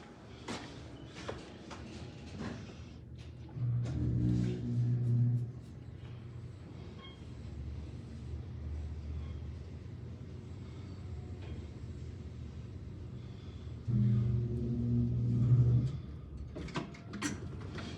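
A Houghton elevator at 733 Washington Road hums with a low, steady rumble throughout a ride, and two louder tonal swells rise partway through.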